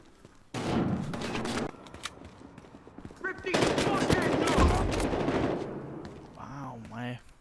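Gunfire in the first-person shooter Blood Money: loud sustained bursts and rapid volleys of shots, fairly close, with someone talking over parts of it.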